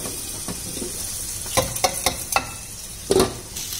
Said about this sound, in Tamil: எண்ணெய் சூடாயிடுச்சு, தேவையான அளவு கடுகு சேர்த்துக்கிறேன். அப்புறம் கொஞ்சமா கருவேப்பில.